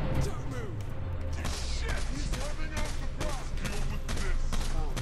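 Dense gunfire rattles through a Saints Row 4 game session, heard as continuous rapid bursts and scattered shots layered under loud game sound effects, with people talking and reacting throughout.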